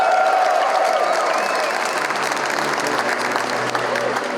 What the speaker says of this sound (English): Ladies and gentlemen, make some noise for Joanne Calderwood